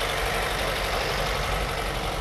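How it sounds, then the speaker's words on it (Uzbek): At an outdoor car market, the engine of a 2010 Daewoo Nexia 2 runs steadily and close up, a dense, even rumble with no break and no voices. "Mana motor ovozlari bilan"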